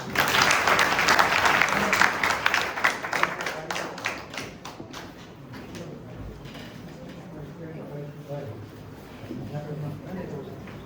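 Applause from an audience at the close of a Marathi lecture on stress and the mind, loud and dense for about five seconds, then thinning to scattered claps under talking voices.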